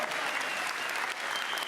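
Snooker crowd at the Welsh Open final applauding, dense continuous clapping filling the hall, loud and close throughout the short burst.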